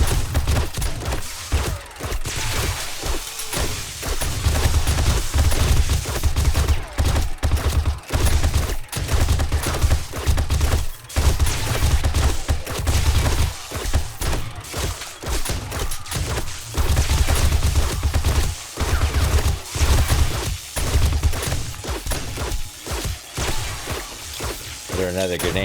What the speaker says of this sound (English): Clear him out a little bit with the AK,